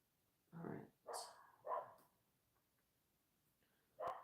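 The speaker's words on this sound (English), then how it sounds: "Wonder what my dog's barking at." A dog barks several times from a short distance away, three quick barks in a row followed by a pause and then one more bark, with a quiet background between them.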